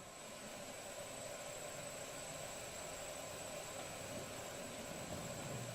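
A sand-based industrial 3D printer builds parts layer by layer with a steady mechanical whir and hiss, plus a faint high-pitched whine that stays constant throughout.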